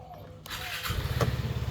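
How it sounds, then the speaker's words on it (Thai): A Vespa Primavera 150 i-GET scooter from 2022 starts up after a brief quiet crank, catching at once and settling into a close, steady, pulsing idle. "สตาร์ทที่เดียวติด"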